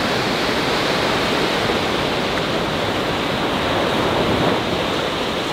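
Large ocean waves break and surge along a coastline, a dense, continuous roar of surf that stays loud and steady throughout, with some wind noise mixed in and no talking.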